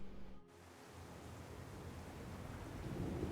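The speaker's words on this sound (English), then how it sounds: "they weren't kidding about that storm rolling in" A thunderstorm with rain in Syberia: The World Before, heard as a broad, steady wash of rain noise that swells slowly, with a deep rolling rumble of thunder building toward the end.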